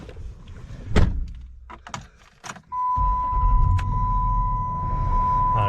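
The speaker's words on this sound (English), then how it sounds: "I'm gonna start the car now." A 2008 Dodge Charger R/T is started after a few clicks and thunks, the engine catching abruptly and settling into a steady, close idle with a whine over the low rumble.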